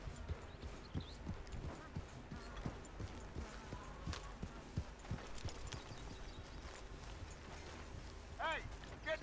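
Horse hooves clip-clop in Red Dead Redemption 2, a steady scatter of soft hoofbeats over a busy game soundscape with background voices and rustling.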